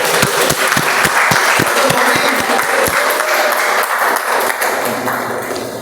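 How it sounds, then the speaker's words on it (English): A room of attendees at a multilingual speaking-club meeting claps for guests and latecomers, a few sharp close claps at the start merging into steady, loud applause that fades slightly toward the end. "Can we have a round of applause for our guests or latecomers?"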